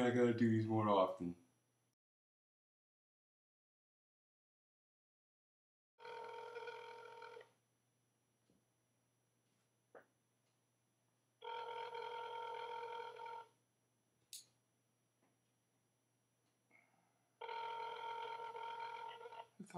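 Telephone ringing on the line during a prank call to a strip club, three separate long bursts of ring tone with quiet gaps between, after a short stretch of voice at the start.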